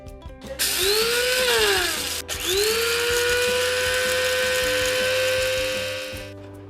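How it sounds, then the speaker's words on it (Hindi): Small electric spice grinder whirring through toasted whole spices for a quick Indian achar, a steady high-pitched motor whine with a brief pause and restart midway, loud and close with no talking. "चलिए, ये टोस्ट हो गया, थोड़ा ठंडा हो गया, अब इसे ग्राइंड कर लेंगे।"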